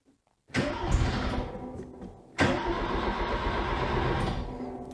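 A temperamental starter button cranks an engine with the choke off in two loud, close bursts, each a sustained mechanical whirr, separated by a short lull, with no speech.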